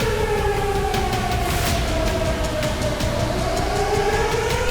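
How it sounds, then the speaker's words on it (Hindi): An air raid siren wails steadily across Ukraine during a rescue operation, its rising and falling tone loud and continuous against a rumbling background, with no voices. "रेस्क्यू ऑपरेशन के बीच यूक्रेन में अचानक सायरन"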